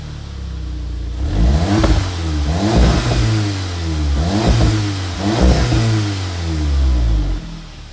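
A 2015 VW Golf R with an Invidia Q300 catback exhaust revs repeatedly, its engine note rising and falling in several swells over a low rumble, loud and close with no talk.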